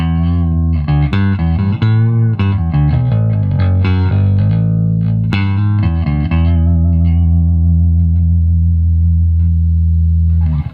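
A Fender Custom Shop Dale Wilson Masterbuilt '70s Jazz Bass plays a punchy, loud phrase with string bends, then a held note rings out with long sustain, with no voices.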